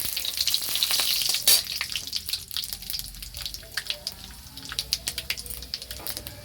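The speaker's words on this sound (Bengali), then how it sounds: "এই তেলের মধ্যে 1 চামচ 5 ফোড়ন, 2টো তেজপাতা," Panch phoron spices and bay leaves sizzle and crackle in hot oil in a pan, a loud dense burst at first that settles into scattered popping and spitting, with brief stirring noises and no talking.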